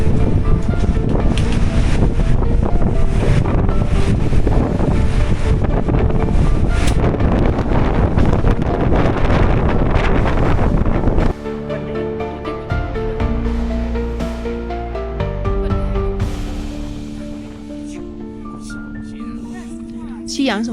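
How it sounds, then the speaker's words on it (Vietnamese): Strong wind roars across Jade Dragon Snow Mountain at about 4680 m, a loud buffeting rush against the microphone for the first half, then easing as voices talk close by. "Để mở tiếng cho mọi người nghe tiếng gió nha"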